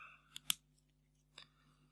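Scissors snip at card game packaging in a few sharp, close cuts spaced apart in an otherwise quiet room.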